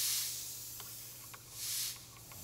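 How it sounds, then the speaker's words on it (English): Steam hissing in soft, airy bursts against a wooden 1903 Springfield rifle stock as dents are lifted, faint and close with a low steady hum underneath and a few small clicks. "We're going to drop a lot of steam right there."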